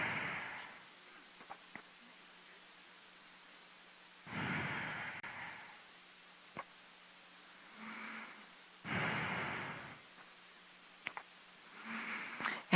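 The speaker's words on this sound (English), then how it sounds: "Take some deep breaths." Slow, deep breaths during a guided meditation service, soft breathy swells recurring every few seconds over a quiet, hissy room tone with faint clicks between.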